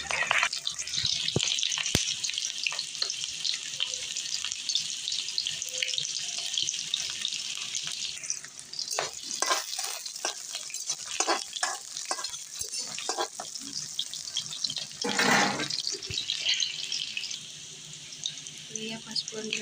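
Onion going into hot oil for a local meat curry, a steady loud hiss and crackle with occasional clatters and stirring, close up, while a voice speaks at times.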